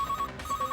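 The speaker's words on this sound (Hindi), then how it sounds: "उठाइए फोन" A telephone rings with a steady electronic trill, pulsing in quick repeated bursts, close and fairly loud with no talking.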